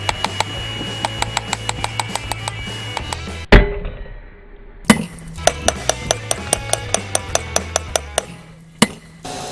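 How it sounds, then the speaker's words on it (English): Steady hammer blows on a metal knife blade being forged from a wrench ring out in a regular rhythm, close and sharp, with a few heavier clanks breaking the pattern. "what I'm doing now is hammering right here in this section"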